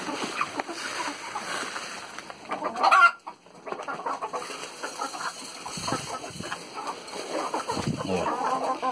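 Free-range hens clucking steadily while being given layer feed on a small farm, a busy continuous flock chatter with one louder burst near the middle.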